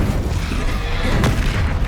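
A Hogwarts Legacy blasting spell lands as a dull, deep booming thud amid a low rumbling din, with one sharper crack near the middle, close and loud, no talking.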